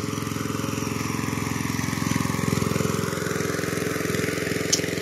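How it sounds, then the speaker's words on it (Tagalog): A deep well water pump motor at a farm resort runs steadily nearby, a constant pulsing mechanical drone with a brief tick near the end and no talking. "ito naman po yung kanilang motor."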